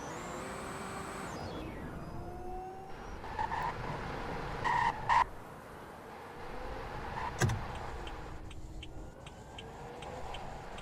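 A Tesla car in the Roblox Greenville game drives with an electric whine that rises and falls, brief tire squeals and skid bursts, and a sharp thump partway through, with no talking.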